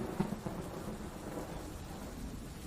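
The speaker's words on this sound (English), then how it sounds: "Only the soft sound of rain remained, tapping gently on the roof" Rain falling on a roof with thunder, a soft, steady wash of drops under a low distant rumble, quiet and continuous with a few faint taps near the start.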